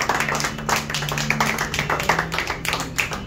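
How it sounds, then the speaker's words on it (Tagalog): A congregation at a resurrection Sunday church service claps in praise, a dense, loud patter of many hands in uneven rhythm, sustained throughout with a faint tonal hum beneath. "Pwede ba natin palakpakan muna ang Panginoong buhay?"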